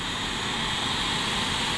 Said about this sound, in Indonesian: Boeing 777-300 ER